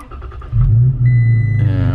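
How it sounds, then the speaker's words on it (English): A Toyota Tacoma truck engine fires up via push-button start: a short crank at about half a second catches into a loud, steady low rumble that settles into an idle, with a faint chime and a brief rev near the end. "put our foot on the brake and hit that engine start button"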